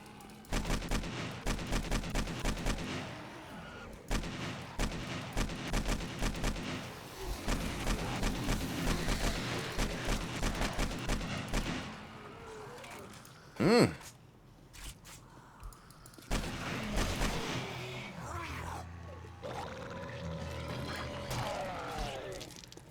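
AK-47 gunfire in the survival game 7 Days to Die comes as long rapid automatic bursts broken by short pauses, with one sharp loud blast midway and quieter game noise near the end.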